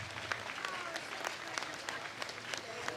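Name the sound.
applause for silver medalists at a pickleball championship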